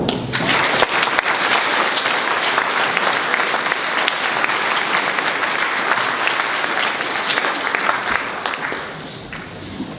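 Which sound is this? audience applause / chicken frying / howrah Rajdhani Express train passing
audience applause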